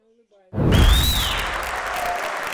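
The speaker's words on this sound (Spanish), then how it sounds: "Así, con vítores y aplausos, ha recibido el Congreso de Estados Unidos al presidente ucraniano" Cheers and applause fill the US Congress chamber as the Ukrainian president is received, a dense roar of clapping that bursts in suddenly after a faint voice and stays loud, with a whistle rising above it.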